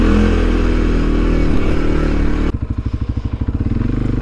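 A CFMOTO CFORCE 400 ATV engine running close, first a steady loud drone, then shifting into a rapid pulsing, throbbing rhythm as the engine note drops, with no talking.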